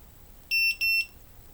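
A Vifly 2 drone buzzer gives two short, shrill electronic beeps in quick succession. The beeps are loud and close, with near-silence before and after.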